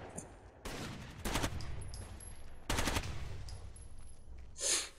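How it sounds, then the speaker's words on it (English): Automatic gunfire in the tactical shooter Rainbow Six: Vegas 2, with two loud bursts of rapid shots several seconds apart over a constant background rumble, then a short distinct hit near the end. "I hear gunfire. Does anyone?"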